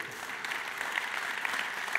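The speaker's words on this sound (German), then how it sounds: "Ich habe noch gar nichts gemacht und kriege schon den ersten Applaus." An audience claps steadily at a conference talk, a dense, even patter of many hands that continues throughout.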